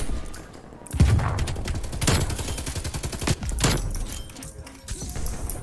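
Sustained bursts of light machine gun suppressive fire in Call of Duty Cold War, rapid heavy rattling shots in long loud volleys with brief pauses, close and dominant with no talk over them.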